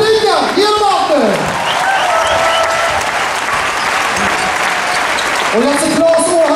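Audience at a 1979 final-team reunion basketball game between KFUM Uppsala and Alvik cheers and applauds loudly and continuously, a dense sustained roar of clapping with whistles and shouts, while an announcer talks over it.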